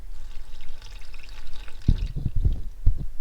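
Engine oil drains from a Pentastar engine in a thin stream and splashes into a catch pan nearby, shifting into irregular glugs and drips partway through.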